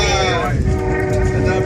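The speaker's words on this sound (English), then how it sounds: "And that is why the train is whistling a lot." A passenger train from Quebec, slowing on a snowy route, sounds a long whistle blast with a steady tone under the rumble of the moving cars, while a person talks over it.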